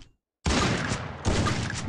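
Gunfire in the mobile battle game Free Fire, a dense rattling burst that starts abruptly after a brief quiet moment and continues loud and sustained, with a second surge partway through.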